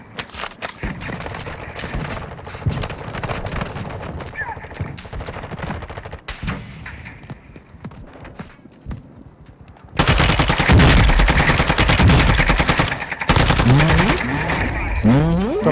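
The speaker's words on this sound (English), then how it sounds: "Somebody else shooting at them." Rapid automatic gunfire rattles continuously in a Call of Duty: Modern Warfare II match, with a steady stream of shots that grows louder and denser partway through, mixed with game effects.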